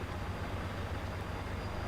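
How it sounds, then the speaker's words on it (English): A train runs in the Farm Sim video game, a steady low rumble that holds evenly throughout with no voices over it. "It's got to run the train"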